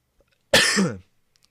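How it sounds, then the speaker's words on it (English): A single short, harsh cough, close and loud, in otherwise near silence. "sorry about the coughing"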